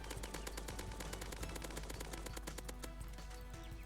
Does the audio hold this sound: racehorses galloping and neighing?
no